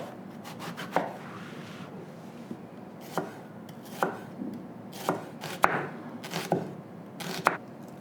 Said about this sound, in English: So we take the brinjal, we cut it into small cubes.